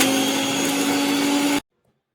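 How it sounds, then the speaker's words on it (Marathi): A kitchen mixer grinder blending garlic cloves and cumin seeds into a paste, a loud steady motor whine that runs for about a second and a half, then cuts off abruptly into silence. "आता वाटण करून घेणार आहे मिक्सरला"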